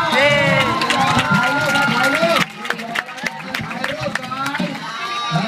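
A crowd claps and cheers for a school cheerleading squad at a Chitralada event in 2012, loud and continuous with music and chatter at first, then scattered clapping and voices after a sudden drop in level.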